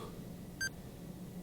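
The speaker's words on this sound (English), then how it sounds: "Another notification from Duolingo?" A phone notification from the Duolingo app sounds as a single short, faint electronic beep over a quiet background.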